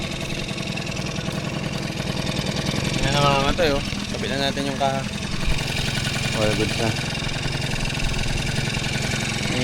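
A Honda Dio scooter under repair idles roughly, a loud, steady, buzzing putter at close range that falters as it threatens to stall, while someone talks over it.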